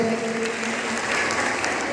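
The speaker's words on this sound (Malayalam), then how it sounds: "എല്ലാവരും കൈയടിച്ച് കൊടുക്കണം കേട്ടോ" An audience at a school kindergarten fest claps together in dense, continuous applause, loud and steady throughout.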